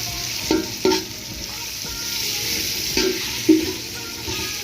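Lentils fry with bottle gourd in a pan, a close, steady sizzle punctuated by several distinct stirring scrapes.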